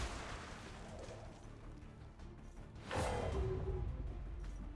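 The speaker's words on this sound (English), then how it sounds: "Loud explosion draws the swarm nearer" A loud explosion in the video game XCOM 2 erupts partway through as a sudden broadband blast over steady in-game background noise, then trails off into a sustained rumble.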